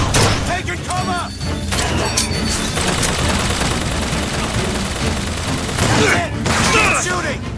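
Gunfire rattles in BioShock Infinite, with rapid bursts of shots and booms mixed with shouted voices through most of the stretch.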